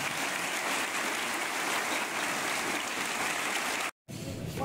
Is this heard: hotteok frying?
no